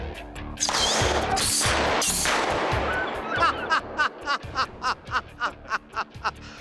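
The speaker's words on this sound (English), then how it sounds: "That was an ever-loving smack of a bang." A ping pong ball fired from a 20-foot barrel at 300 PSI gives a loud, sustained blast of noise, followed by a rapid series of sharp, evenly spaced clattering knocks as the ball bounces away.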